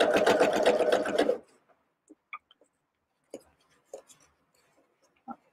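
A sewing machine runs in one loud, close burst while sewing a fanny pack, then stops, leaving a few faint clicks and handling taps in near silence.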